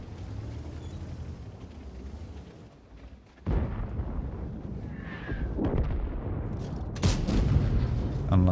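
A tank cannon fires in World of Tanks, a sudden deep boom that cuts in after a quieter rumbling stretch, followed by a heavy reverberating roar and another sharp blast near the end.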